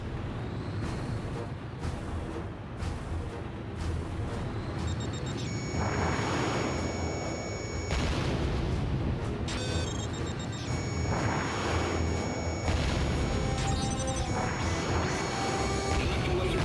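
Repeated heavy explosions and crashes destroy an electro-laser cannon in the PSP game Ace Combat Joint Assault, booming blasts layered with electronic tones and radio beeps in a dense, continuous battle din.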